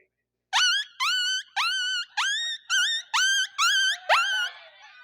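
A human voice imitates a puppy with eight high, whining yips in a steady rhythm, close and clear against silence.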